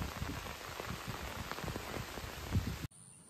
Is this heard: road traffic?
no